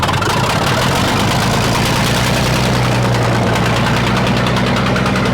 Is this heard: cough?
no